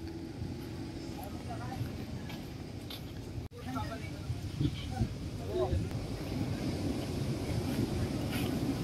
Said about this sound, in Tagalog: Nice getaway kaso napakalakas ng alon.